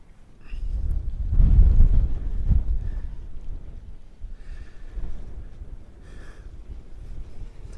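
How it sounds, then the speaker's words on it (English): Strong wind gusting across a microphone outdoors while a DJI Mini 2 drone flies in bad weather, heavy low buffeting that swells early then settles into a steadier rumble, with faint higher whines drifting in and out. "with that wind that's blowing"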